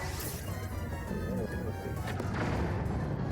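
Bomb barrel exploding after being hit by a fire fruit arrow in Zelda: Tears of the Kingdom, a loud burst with crashing debris and rumble that rolls on through the clip.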